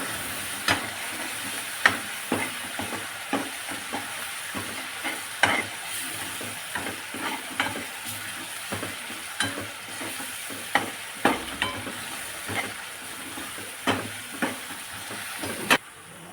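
Potato filling for aloo paratha sautés in a pan: a constant sizzle with a spoon scraping and tapping at a regular pace, with occasional louder knocks against the pan.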